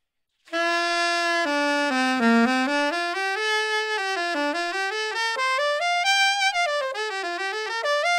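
Soprano saxophone fitted with a Mr PS resonator plays a continuous, full-toned melodic run with rich overtones, stepping up and down through the range before climbing into sixth-octave altissimo notes, solo and close.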